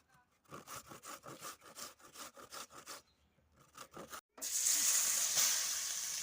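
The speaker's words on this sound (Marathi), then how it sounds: "गाजर असा खिसून घ्यायचं आहे गाजर हलव्यासाठी गाजर खिसून घ्यायचं आहे" Carrots being grated by hand for carrot halwa, a steady series of rhythmic rasping strokes close up, pausing briefly before a louder, continuous scraping burst at the end.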